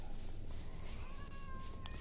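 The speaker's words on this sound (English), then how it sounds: "The cat's out of the zoo." A Minecraft cat meows amid a noisy, busy game soundscape, a few thin tonal calls rising near the end of the short stretch.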